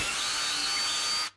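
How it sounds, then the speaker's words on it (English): Power drill boring holes in wood for a crosscut sled, a steady high-pitched whine held for about a second before the motor cuts off abruptly, close and loud. "Now we can take this over to our workbench and drill some holes."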